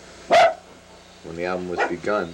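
A dog named Tide gives a single loud, sharp bark close by, followed by someone speaking.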